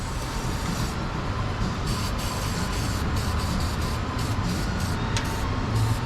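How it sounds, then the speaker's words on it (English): A steady hissing anti-corrosion protective spray runs continuously on a Ford E250 van against a loud, rumbling engine-like background, with brief bursts in the high hiss throughout. "time for some protective spray"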